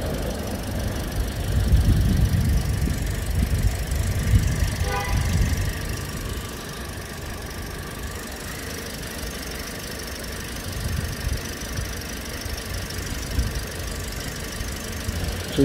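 A car engine idling rough with a steady low rumble and shaking vibration, the roughness caused by a faulty oxygen sensor; the sound is continuous and fairly loud throughout, with a faint squeal riding over it.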